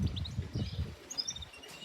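Racing pigeon near its loft, faint soft cooing and fluttery calls in short bursts, quiet and a little distant, with small high chirps from other birds in the background.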